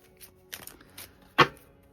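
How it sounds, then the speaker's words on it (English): Tarot cards being shuffled by hand late at night, heard as a few soft papery riffles followed by one sharp, louder card snap near the end, close up with no talking. "I shuffle the cards on screen so that you can see me actually doing it."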